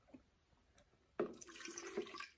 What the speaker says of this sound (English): put some clean water on it, squeeze it out a bit,